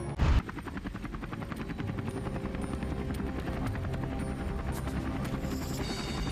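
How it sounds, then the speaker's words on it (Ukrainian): A Ukrainian Mi-8 military helicopter flies over the Kursk region with a steady, loud, throbbing rotor drone that runs through the whole stretch after a brief thump at the start. "У небі над Курською областю український гелікоптер Мі 8 працює"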